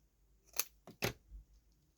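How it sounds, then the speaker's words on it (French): Scissors snipping through a small die-cut paper craft piece, two or three quick close crisp cuts in an otherwise quiet room. "je vais couper par contre parce que je trouve qu'il est un peu gros"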